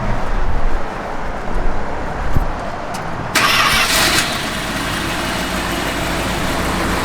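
A 1979 Dodge Adventurer 150 Lil Red Express pickup's engine cranks and fires right up, then settles into a steady, fairly loud idle heard close by, with a short hiss partway through.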